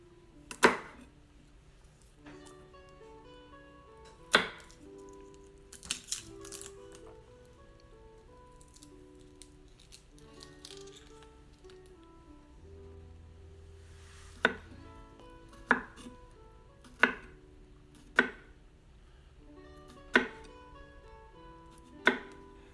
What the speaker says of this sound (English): having me peel and slice the garlic